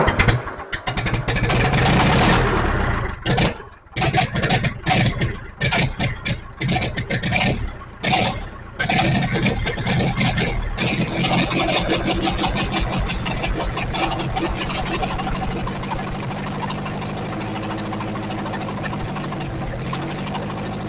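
A 1944 Ford 2N tractor engine with no exhaust fitted sputters and catches in uneven bursts, then settles into a loud, raw, steady running rhythm close by.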